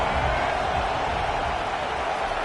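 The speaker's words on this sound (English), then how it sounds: "This crowd even louder now on second down as they try to hold on." A stadium crowd in a Madden football video game roars steadily on second down, a dense, continuous wash of cheering noise that holds at an even level throughout.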